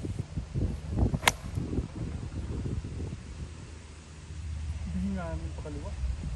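Outdoors on a windy golf course, a full 60-degree wedge strikes a golf ball with one sharp, crisp click, followed by soft wind noise, rustling and faint murmuring voices.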